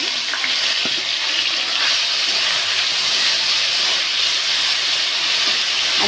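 Prawns frying hard in oil over a high gas flame give a loud, steady sizzle and hiss that runs unbroken throughout, with faint stirring scrapes and no voices.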